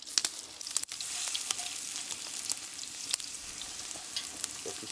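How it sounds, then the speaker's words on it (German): Food frying in a hot pan gives off a steady crackling sizzle with sharp pops and spits throughout, close and fairly loud. "Der tut doch brutzeln, hörst du das nicht?"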